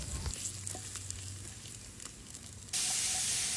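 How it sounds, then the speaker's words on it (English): Fries sizzling and crisping in a pan used for steak bites and potatoes, a dense steady hiss of frying close up, swelling into a louder burst of sizzle near the end. "Now on that same pan, throw in your fries. You start getting them nicely brown, crisping up."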